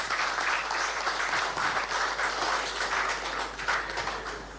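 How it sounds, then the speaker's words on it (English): Delegates at the GFA 32nd Ordinary Congress at Ghanaman Soccer Centre give sustained applause, a full, even roar of many hands clapping in a large hall that eases slightly toward the end. "Can we give him a round of applause,"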